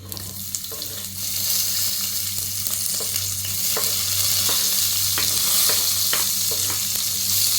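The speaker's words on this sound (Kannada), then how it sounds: "ಸಾಸಿವೆ ಸಿಡಿದ್ಮೇಲೆ ಅದಕ್ಕೆ ನಾನು ಕರಿಬೇವು ಮತ್ತು ಈರುಳ್ಳಿ ಹಾಕ್ಕೊಳ್ತೀನಿ." Curry leaves and onion frying in hot oil after mustard seeds have spluttered, a steady loud sizzle with occasional sharp crackles and a few stirring scrapes, no voices.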